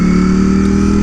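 A Ducati Streetfighter V4S motorcycle engine holds a loud, steady high-revving note while riding, heard up close with no talk over it.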